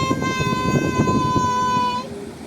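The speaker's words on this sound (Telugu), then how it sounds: "Very long goods train." A long goods train rolls past with a steady rumble, and a sustained horn blares for about two seconds before cutting off, leaving the low rolling noise alone.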